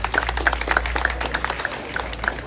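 Audience at a university cheque presentation in Cité Soleil breaking into applause, with individual claps distinct and rhythmic over a low hum.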